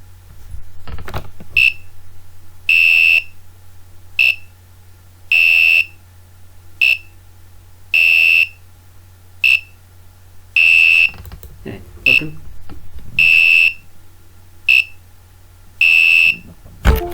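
An Arduino-driven electronic buzzer beeps repeatedly, alternating two different tones, short and longer and piercing, in a regular pattern, with faint handling noise and a low hum beneath.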